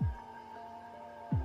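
Small cooling fans in a DIY variable bench power supply built from a salvaged PC power supply run with a steady, fairly quiet hum and faint whine, with a couple of low thumps at the start and near the end.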